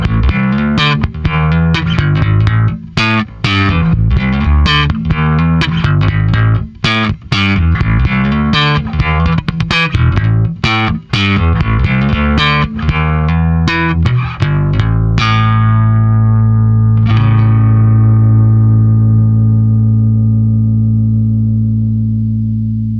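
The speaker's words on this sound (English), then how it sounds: "Let's go full bore and see if we can get some grit out of it." Bass guitar through a Trondheim Audio SkarBassOne pedal at full drive, gritty distorted notes plucked in a busy run, then one final note ringing out and sustaining long and loud to the end.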